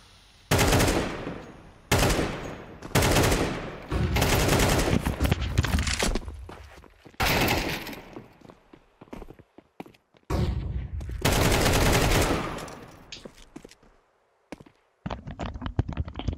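Bursts of AK rifle fire in a Counter-Strike match, several loud sustained volleys separated by short pauses, with a few quieter single shots and clatter near the end; no talking.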